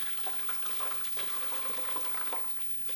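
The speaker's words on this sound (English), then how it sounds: "we have our just a big bowl here with a strainer, and we pour it all through" Blended cream is poured through a strainer into a big bowl, making a steady, continuous liquid splashing and rushing that lasts the whole moment. It is close and moderately loud, with no talking.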